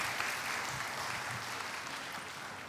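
Congregation at a Christmas service at GMI Immanuel Jakarta church applauds its seniors, a steady, dense wash of clapping from a crowd that holds at an even level throughout with no voices over it.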